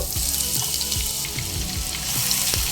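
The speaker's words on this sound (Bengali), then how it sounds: "মিডিয়াম ফ্লেমে নেড়ে ছেড়ে পেঁয়াজ ভেজে নেব হালকা সোনালি রং ধরে আসা পর্যন্ত" Finely chopped onion fries in hot mustard oil over a medium flame, a dense, even, close sizzling hiss with soft low bumps from stirring throughout.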